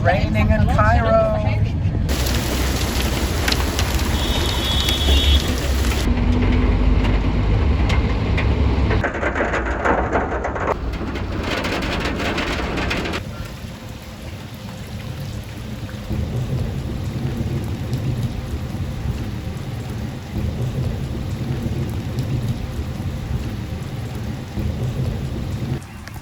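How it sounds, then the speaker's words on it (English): Heavy rain and thunder during a storm in Cairo, Egypt, a steady loud downpour with rumbling bursts, and a voice speaking over it in places. "It's raining in Cairo."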